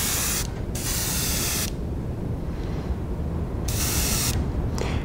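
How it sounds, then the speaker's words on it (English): Airbrush spraying paint onto a fishing bait for a shad pattern: bursts of hissing spray switch on and off, close and steady, with quiet pauses between passes. "I'm just going to kind of spray right down the back"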